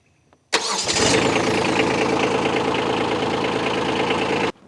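A Kubota B2601 compact tractor's diesel engine cranks briefly, then catches and settles into a steady, loud, rumbling idle for several seconds before cutting off abruptly.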